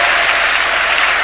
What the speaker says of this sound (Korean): 우리 한번 뜨거운 박수 한번 쳐주세요.